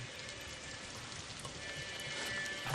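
Steady rain falling in the video game Ghost of Tsushima, a dense, even hiss of drops pattering on surfaces, constant and close, rising slightly toward the end with no voices over it.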